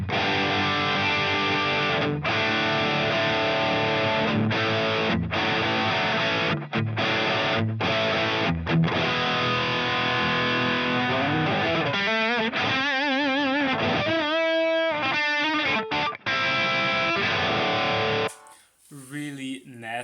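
A distorted electric guitar with a Friedman-style amp tone from a Line 6 Helix, miked through a U87 impulse response. It plays loud, steady riffing with a few short stops and ends in a brief gap near the close.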